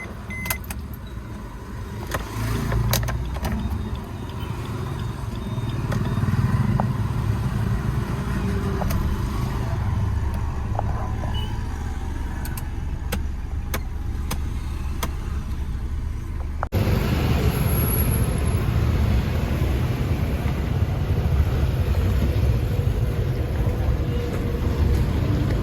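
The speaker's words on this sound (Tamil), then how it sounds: "சரி வாங்க வண்டியை ஸ்டார்ட் பண்ணிட்டு ஆரம்பிக்கலாம்." An outstation taxi car runs on the road, its engine and road noise forming a steady low rumble throughout with a brief shift partway through, and a voice comes through faintly at times.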